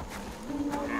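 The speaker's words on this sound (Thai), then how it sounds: "อ๋อแพะครับ" A goat bleats briefly in the video game Far Cry Primal, a short, fairly soft call set against a dense game soundscape.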